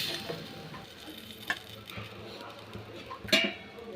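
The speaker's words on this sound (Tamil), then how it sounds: "நல்லா கலக்கிட்டு நல்லா கொதிக்க விட்டுட்டு" Tamarind gravy for lentil dumpling curry bubbling and boiling in a pot while being stirred, a soft steady simmer with occasional sharp scrapes and clinks of the spoon against the vessel.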